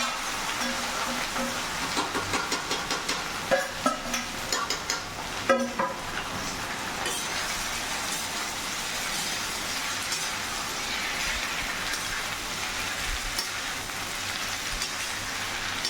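Potatoes with chilli and coriander fry in a hot kadai with a steady, close sizzling hiss, with crackles and spatters in the first few seconds before it settles into an even fry.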